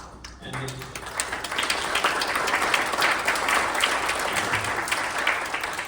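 Audience applause at an anniversary dinner for the Gimli Glider, a sustained burst of clapping from a room full of people that rises quickly and carries on steadily.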